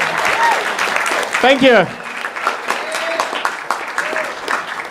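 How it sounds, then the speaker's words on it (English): Applause from an audience at a hackathon closing ceremony runs throughout, moderately loud and dense, while a person speaks briefly over it partway through. "can you please applause to us a bit?"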